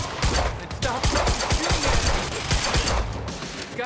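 Rapid bursts of gunfire from a firefight in the video game Quantum Break, dense overlapping shots cracking loud and close in quick irregular succession over a busy action soundtrack, with a faint voice talking underneath.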